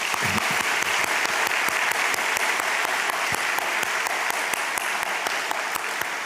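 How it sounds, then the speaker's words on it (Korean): A church congregation gives warm, continuous applause at a Sunday service, a dense, even clatter of many hands sustained throughout with little talk. "우리 뜨거운 박수로 한번 보내주겠습니다."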